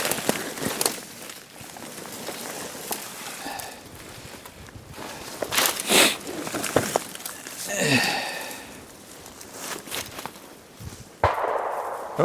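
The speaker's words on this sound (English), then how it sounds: "That sounded like Jeff's rifle. That didn't sound like a 223" A distant rifle shot rings out during opening-day deer hunting in Wisconsin woods, a single sharp crack standing out over steady outdoor rustle and footsteps.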